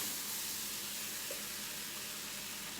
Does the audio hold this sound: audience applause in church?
no